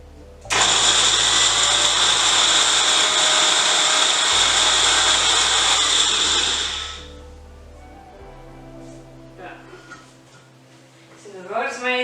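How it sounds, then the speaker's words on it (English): Dried rosemary being ground by hand, a loud steady rasping, grinding roar lasting several seconds before cutting off, followed by quieter scraping sounds and a voice speaking. "the rosemary is a little harder to grind up because it's been dried"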